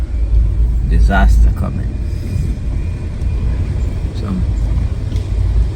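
A car rolls through a residential neighborhood boarded up for Hurricane Milton in Florida, 2024, with a steady low engine and road rumble, while someone talks over it throughout.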